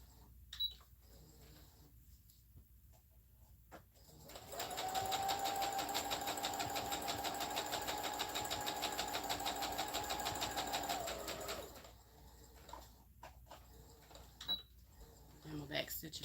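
A sewing machine back stitches stretchy fabric with a stretch needle, a steady whirring run of about seven seconds, preceded and followed by quieter clicks and handling, with someone talking around it.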